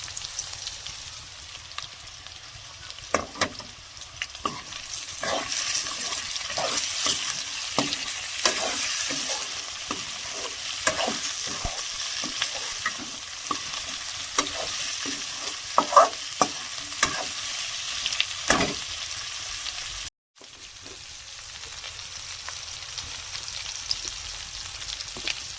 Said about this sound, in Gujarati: આ રીતે બધું તેલમાં પકાવવાનું છે.